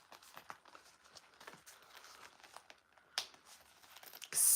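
A sewn fabric Juno Clutch Wallet is folded up with soft crinkling and rustling handling sounds, close and fairly quiet, ending in a sharper burst of fabric noise.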